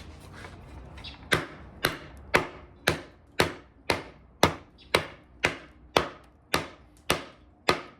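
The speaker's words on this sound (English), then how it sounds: "I want to bang on that edge a little bit and see how it does" A Rock Apex knife by HX Outdoors strikes wood in a steady series of about a dozen sharp, loud chops, evenly spaced roughly half a second apart, close by.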